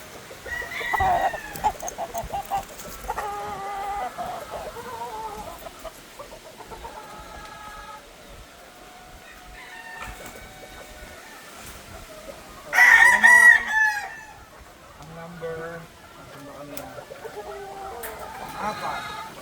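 Hens cluck intermittently around a breeding pen while a rooster crows loudly once near the middle, with faint background talk and farmyard murmur.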